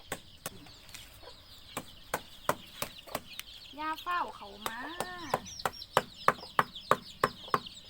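Chickens cluck in a coop housing ducks and chickens at feeding time, short rising calls bunched in the middle, under a run of sharp, regular knocks and a voice speaking Thai.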